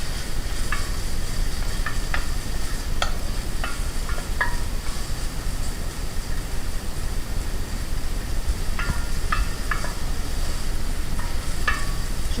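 Onions fry and get stirred in hot oil in a saucepan: a steady sizzle runs throughout, broken by scattered scraping clicks of a utensil against the pan, with no talking.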